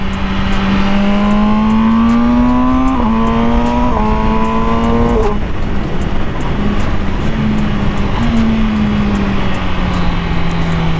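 2020 MV Agusta Brutale 1000RR motorcycle engine under way, loud and close, rising through the revs with quick-shifted gear changes, then settling into a steady drone with a brief lift near the end; no talk.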